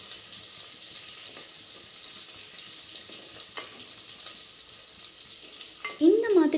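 Curry leaves sizzle in oil as they are stirred into a pan of fish curry, a close, steady frying hiss with occasional scrapes, ending in a brief louder bubbling burst.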